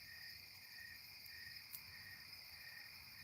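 Crickets and a tree frog calling at night beside a fire: a dense, steady high-pitched chirring drone throughout, faint and distant, with no talk.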